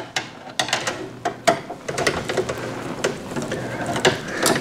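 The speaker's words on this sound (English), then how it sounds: "which exposes the screws that connect the GPU to the frame and to the motherboard. So we'll get those two screws out." Screws being backed out of the metal frame that holds a graphics card inside a desktop PC, heard as a run of close, sharp metallic clicks and ratcheting ticks scattered irregularly across the whole stretch, with no talking.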